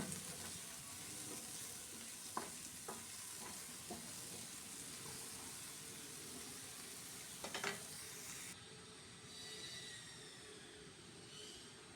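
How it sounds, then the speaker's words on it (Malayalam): Crushed garlic, onion, a pinch of salt and crushed chilli are sautéed in a pan, giving a soft continuous sizzle with a few scraping stirs; the sound thins out and grows quieter toward the end. "ചതച്ചെടുത്ത മുളകുമിട്ട് നമുക്കൊന്ന് ആ പച്ചമണം പോകുന്നത് വരെ ഒന്ന് വഴറ്റിയെടുക്കാം."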